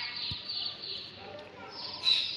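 Faint high chirps of small birds in the background over a steady hiss, with one brighter tweet near the end.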